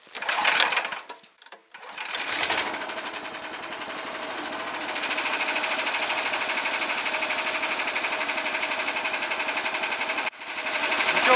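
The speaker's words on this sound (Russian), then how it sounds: "давайте заводим аппарат, прогреем и вперед домой" A Karakat all-terrain vehicle engine on a taiga hunting trip in Komi is started after a few short cranks, then settles into a steady, loud, rapid idle that continues while it warms up.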